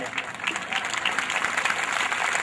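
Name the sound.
audience applause in temple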